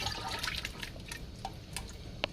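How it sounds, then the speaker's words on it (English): Thick tomato stew for jollof rice poured into a pot, a soft continuous wet trickling and sloshing with a few small drips, quiet and close, no talking. "I'm pouring this stew here."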